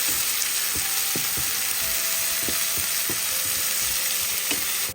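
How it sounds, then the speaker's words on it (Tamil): A large chopped onion sizzles steadily in hot oil for semiya upma, a dense continuous hiss with occasional clicks of a spoon stirring the pan. "நறுக்கி வச்சு ஒரு பெரிய சைஸ் வெங்காயத்தை சேர்த்து நம்ம அழகாக இதை வதக்கிக்கலாம்"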